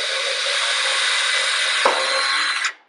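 A power drill with a 1/8 inch bit drills into wood in one steady, close whine that stops abruptly at the end, with a brief knock partway through.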